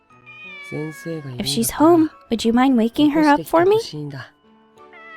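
A cat in Corpse Party: Book of Shadows gives several rising, close-up meows mixed in with a voice speaking.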